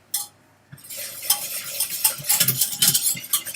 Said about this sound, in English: and then stir quickly